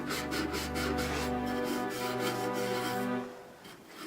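A buffing pad rubs mineral oil into a wooden table leg with a steady rasping back-and-forth friction and a droning tonal whir. It is close, continuous, and eases off near the end.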